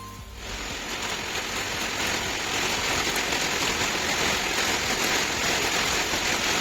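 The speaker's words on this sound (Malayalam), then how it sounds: "നല്ല മഴ." Heavy rain falls in a steady, dense, close-up downpour, a continuous loud hiss of drops drumming on surfaces without a break, and no voices.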